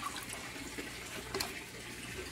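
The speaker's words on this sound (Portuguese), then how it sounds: "Vai sair água daí" Water gushing steadily from the pump outlet pipe of a washing machine as it is disconnected during plumbing work, a continuous close splashing flow with no talk.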